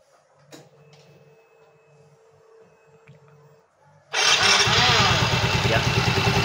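A Yamaha motorcycle engine is started after a quiet workshop lull, catching at once into a loud, steady, close running rumble that holds to the end.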